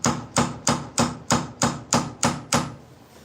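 Light hammer taps peening brass pins set in a knife handle: nine crisp, evenly spaced metallic strikes, close and clear with no talking.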